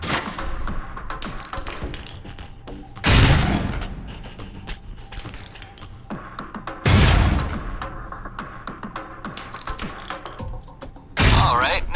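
Concussion grenades going off in Alpha Protocol during a throwing drill: three loud, separate booming blasts spaced a few seconds apart, each fading into a rumbling tail over softer background noise.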